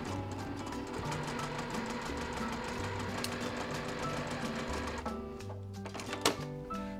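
Sewing machine stitching pieced quilt blocks from the point outward, a steady close mechanical whir with rhythmic needle chatter running continuously, a brief sharp click near the end.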